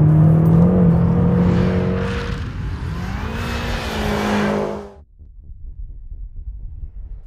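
A rear-wheel-drive car with over 500 horsepower on summer tyres in slush revs hard and climbs in pitch, loud and close, then cuts off abruptly, leaving only a faint rumble.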